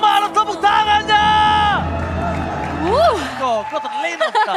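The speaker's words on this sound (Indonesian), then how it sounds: "MDL Arena mana tepuk tangannya" Arena crowd at an esports grand final, a Mobile Legends MDL match between RRQ Sena and Geek Fam Junior, giving loud, steady crowd noise with cheering and applause under a caster's excited voice.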